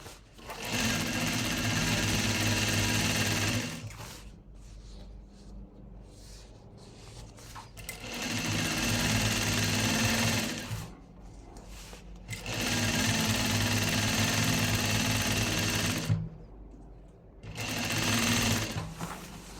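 Sewing machine stitching a cloth hem folded twice at half an inch, running in three loud, close bursts of fast rhythmic whirring separated by quieter pauses.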